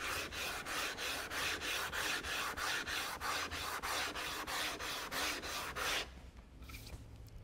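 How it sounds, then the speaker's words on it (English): Sandpaper scrubs the wooden sole of a Japanese hand plane in quick, even back-and-forth strokes, loud and close, then stops abruptly near the end. "We can see here that this sandpaper is taking material off the front and off the back"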